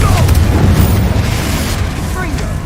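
Confringo spell explosion amid spellcasting in Hogwarts Legacy, a loud, heavy boom with a dense low rumble that sustains throughout, with faint crackling and whooshing effects layered over it.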